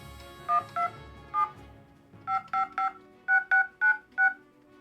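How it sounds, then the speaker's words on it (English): A flip phone keypad sounding DTMF tones as a number is typed: about eleven short, clean beeps, first a few spaced apart, then quicker runs in groups of three and four, close and clear with no talking. "Let's just type in a random number, see if this works."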